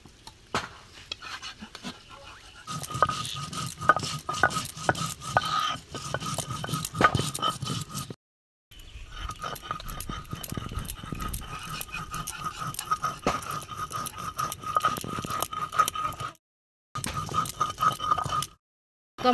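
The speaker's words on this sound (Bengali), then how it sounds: "এবার আমি জিরেগুলো বেটে নেব" Cumin seeds are crushed into paste on a grinding stone: steady, rhythmic rubbing and scraping strokes, close and moderately loud, broken by two brief pauses.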